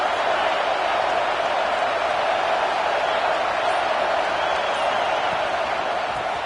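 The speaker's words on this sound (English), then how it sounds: "Listen to the crowd energy here in the early going." Stadium crowd at a UGA vs Auburn college football game roars in a steady, dense wash of cheering and noise throughout, with no distinct breaks.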